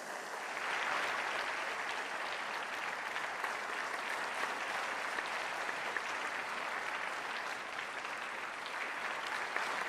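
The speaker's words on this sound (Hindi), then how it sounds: "आप सब अपनी भावनाओं को तालियों के माध्यम से मंच तक पहुंचाएंगे।" Sustained audience applause welcoming the Prime Minister at a formal national education policy event in India, a steady dense clapping from a large crowd lasting throughout at even loudness with no speech.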